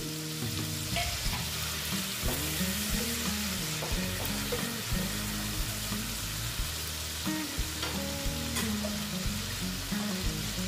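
Grated tomato frying in oil in a pan for pabda fish tel jhal, a steady sizzle under repeated rhythmic scraping and clinking of a spatula stirring through the pan, close and continuous, no talk.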